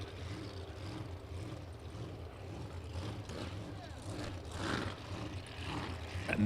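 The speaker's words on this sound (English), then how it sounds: "I love the way that thing sounds. Just kind of chugging over there." A sprint boat with a supercharged 427 cubic inch Ford engine and a 9-inch two-stage jet pump idles and chugs at a distance, a steady low rumble that swells slightly near the end while a voice talks over it.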